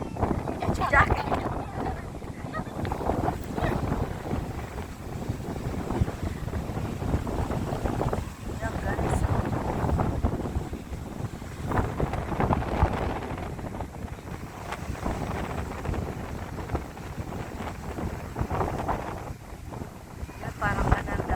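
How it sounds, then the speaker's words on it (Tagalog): Strong wind buffets the microphone beside the Dupinga River in Gabaldon, Nueva Ecija, a steady low rumble with gusty swells throughout, mixed with rushing water and voices talking over it. "Ang lakas kasi ng hangin eh."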